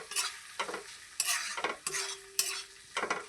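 A spoon scrapes and stirs spice paste with cumin powder in a frying pan while it sizzles, with about six distinct, close stirring strokes in an uneven rhythm and no talking.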